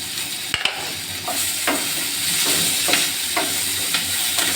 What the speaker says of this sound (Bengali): এখন আমি পেঁয়াজ দিয়ে দেবো, রসুন দিয়ে দেবো